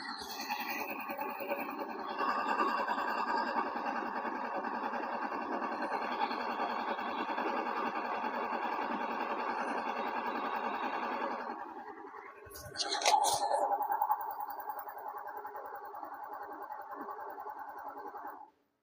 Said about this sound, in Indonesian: kalau suara kemerosok ini sudah dipastikan ini bagian laker askrek